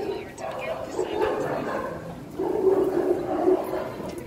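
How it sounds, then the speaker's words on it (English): Dogs bark and yip at a moderate distance, repeated short barks mixed in under people talking inside a car. "Dogs."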